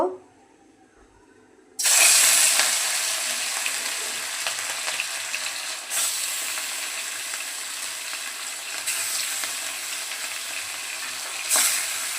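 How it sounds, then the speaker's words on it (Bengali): Fish dropped one by one into hot oil in a wok. After a quiet moment a loud, close sizzle suddenly bursts up, then settles into a steady hiss with a few fresh flare-ups. "তেল গরম হয়ে গেছে, এখন একে একে মাছগুলো দিয়ে দেব।"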